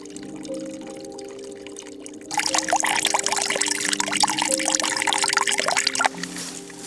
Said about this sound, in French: C'est qu'en fait, c'est une toute petite cascade qui fait un peu de bruit.